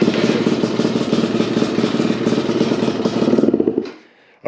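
A 2021.5 GPX Moto TSE250R dirt bike engine with a Keihin PWK 38 carburetor runs cold with a steady rapid chug, close and loud, swelling briefly as it revs before cutting off.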